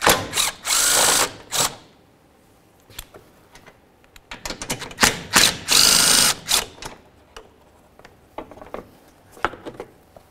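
A ratchet backs out 8mm bolts from a cover on a 2010-2013 Ford Transit Connect. It makes quick bursts of rapid clicking separated by short pauses, loud and close, with no voices.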